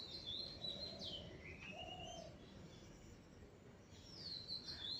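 Bright chirps from a bulbul sitting in a small home kitchen garden ring out near the start and again near the end, with a softer, lower call between them, all set against a constant background hiss.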